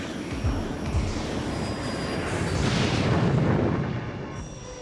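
Steady, loud roar of an airplane engine in flight, rising to a peak near the middle and easing off again, with a few deep thumps early on and no voices.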